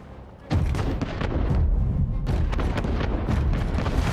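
Ships firing cannons in a naval battle in Anno 1800, with repeated heavy booms and rumbling blasts in quick irregular succession, loud and continuous over a dense low rumble.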